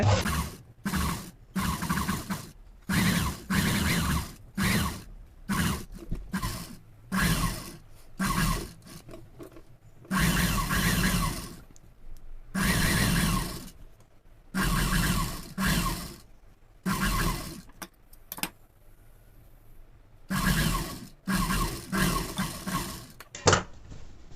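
A sewing machine stitches a blouse in repeated start-stop bursts, each run a loud mechanical whir lasting a second or two, with short pauses between runs while the fabric is adjusted.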